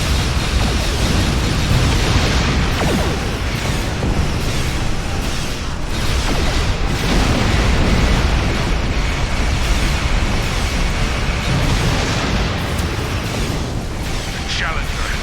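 Starship weapons fire and explosions in Star Trek Online, a dense, continuous roar of blasts and bursts rumbling loudly throughout with no clear gaps.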